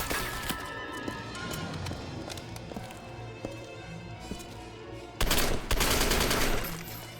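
Full-auto gunfire in the 2008 Xbox 360 game Turning Point: Fall of Liberty, a sustained rapid stream of shots over game ambience that grows louder and denser near the end.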